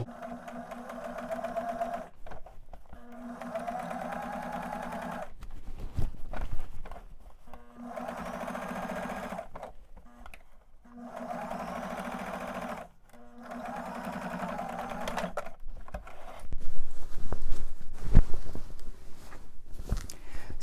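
A sewing machine sews the waist seam of pants near the center back, running in several stop-start bursts with short pauses, close by, with handling noise toward the end.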